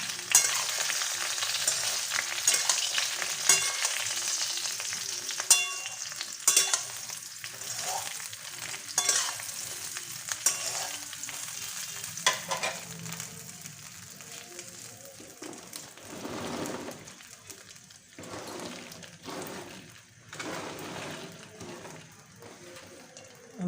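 A spoon repeatedly scrapes and stirs a sweet, sour and spicy jujube pickle in a frying pan with spices. A soft, steady sizzle runs beneath clattering strokes that come in bursts with short pauses.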